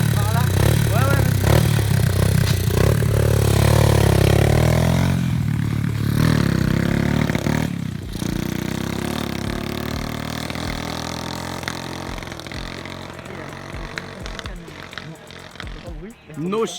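A 50cc dirt motorcycle on a top-speed run through a forest, its engine whining loudly with rising and falling revs up close, then easing off into the distance, while people talk over it.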